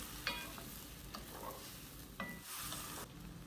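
Meatballs frying in a pan with sweet soy sauce sizzle steadily up close as a little water is added, with scattered clinks and scraping from stirring and brief hissing bursts.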